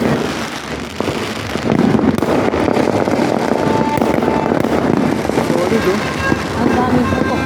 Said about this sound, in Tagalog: Ang daming putok ngayon, no?